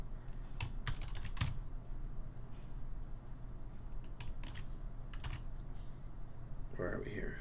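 Someone types on a computer keyboard nearby, with light, irregular bursts of clicking keys and short pauses over a low room hum.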